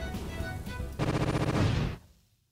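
Fireball attacks in the Roblox game Blox Fruits explode in a fast, loud burst of crackling blasts that then cut off into quiet.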